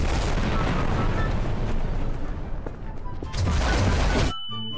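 In the video game Garry's Mod, a bomb blows up with a loud, heavy, rumbling roar that sustains for several seconds, swells again near the end and then cuts off abruptly, leaving a faint tonal tail.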